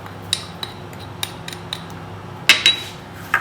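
A utensil mixing salted butter, crushed garlic and Italian herbs in a bowl, with sharp clinks and scrapes in an irregular rhythm, louder taps near the end, close and alone.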